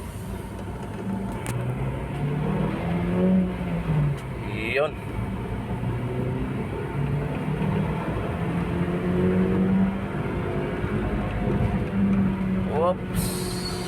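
A Toyota Avanza with an intermittent loss of acceleration hums and rises in pitch as it accelerates on a test drive, with road noise throughout and someone talking over it.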